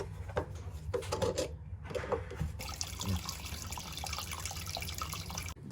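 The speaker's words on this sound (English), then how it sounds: "Make sure you drain all the water out" Water from an electric water heater's opened drain valve runs and splashes in irregular bursts, then settles into a steadier gushing flow, close and moderately quiet.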